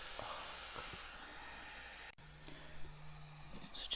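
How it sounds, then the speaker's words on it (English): A heat gun blows a steady, airy hiss while warming the screen of a Samsung Galaxy S4 during a glass replacement, with a brief dip partway through and a faint low hum underneath. "So just grab your heat gun and just start heating up from this side."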